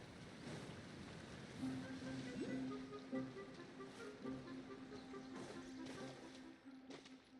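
A waterfall rushes in the video game Genshin Impact, a steady, soft broadband wash of falling water with a faint sustained musical tone in the background.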